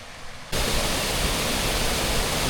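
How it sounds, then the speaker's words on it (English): A waterfall near Clapham, North Yorkshire, carving slots into rock, roars in as a dense, steady broadband wash after a quieter first half-second, constant and loud. "Bit of a waterfall on the other side."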